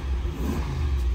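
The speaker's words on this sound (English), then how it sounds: "Love the good old Hemi in this thing." Hemi V8 in a 2023 RAM 2500 Bighorn pickup revving briefly, a deep close rumble with a short swell, no talking.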